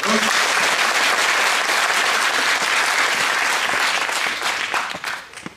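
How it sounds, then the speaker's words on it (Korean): Strong, sustained applause from a conference audience at a Korean agricultural policy debate with local government heads, a thick continuous roar of clapping that tapers off in the last second. "박수 한번 더 주시고요"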